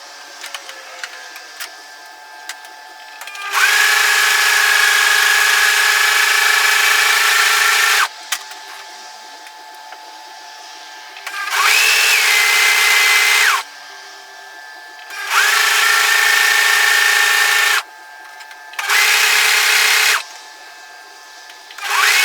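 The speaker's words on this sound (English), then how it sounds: "because this is a cover stitcher, I'm going to stitch it from the right side" A cover stitch sewing machine hems a sweater, running in four loud, steady bursts of fast whirring stitching separated by short pauses, with no talking.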